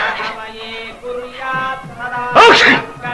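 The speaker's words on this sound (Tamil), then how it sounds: "இது ஜலதோஷ தும்மல்." A sneeze from a head cold, a short loud burst near the end following quieter sounds, close and alone with no talk.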